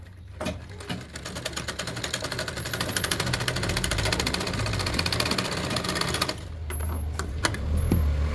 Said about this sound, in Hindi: अब इसको पलटी किया और ऊपर से फिनिशिंग की सिलाई लगाई।